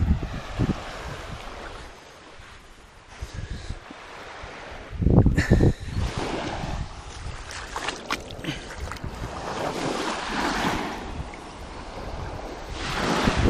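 Ocean waves wash up on a sandy beach of a New Caledonia island, a steady near hiss of surf with a louder surging break midway, joined by wind buffeting the microphone.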